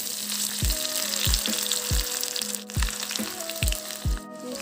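Onions hiss and sizzle loudly in hot oil in a kadai wok, a steady crackling fry with regular soft taps recurring roughly every half second.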